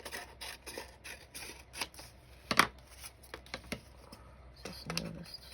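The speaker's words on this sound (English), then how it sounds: "I'm gonna go ahead and cut this down." Scissors snip through paper and craft materials for a prayer journal in a string of short, crisp cuts, close and moderately quiet, with a few louder snaps and some irregular handling noise between them.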